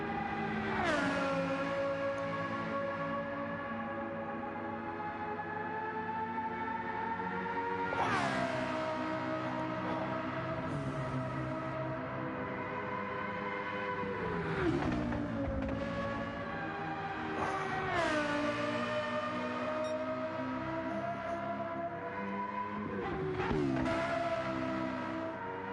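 Lexus LFA V10 engine in Gran Turismo 7 racing, a steady high-pitched wail that climbs through the revs and drops sharply at each gear change or lift, repeating several times, loud and continuous.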